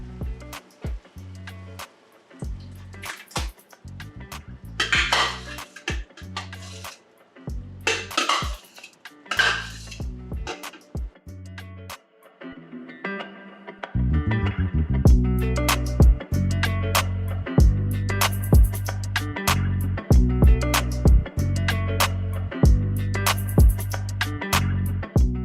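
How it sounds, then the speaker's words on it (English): Garlic frying in hot extra virgin olive oil in a pot gives a loud, steady, close sizzle that builds and fills the second half, after earlier clinks and taps against cookware. "You can hear that oil boiling."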